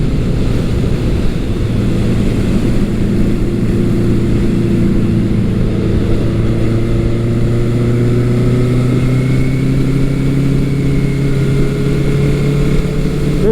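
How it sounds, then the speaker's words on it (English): A 1980 Honda CB900C four-cylinder engine with a 4-into-1 exhaust runs loud and close, a steady rumbling drone with the pitch slowly rising as it revs, no voices. "This bike sounds nice."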